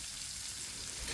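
Onion pieces frying with green chillies and cumin in a pan, a steady soft sizzle with a fine crackling hiss, faint and continuous with no talk.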